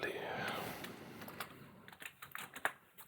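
Keys tapped on a computer keyboard while a terminal command is entered on a Linux server, a quiet run of uneven clicks that grows busier in the second half.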